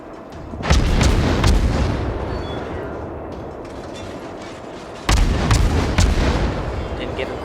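Destroyer main guns fire in World of Warships, two loud booming salvos a few seconds apart, each with a sharp crack and rolling rumble over steady engine and sea noise, with a voice talking.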